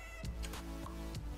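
A cat meows several times in quick succession, short tonal cries close to the mic, from a clip of a cat shared in a school class group chat.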